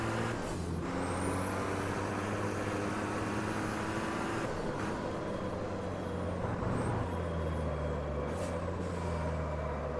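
Formula Truck engine in the Automobilista racing game at Taruma, a loud, steady diesel drone punctuated by sharp hissing air brake bursts and shifting engine pitch as the truck slows and accelerates.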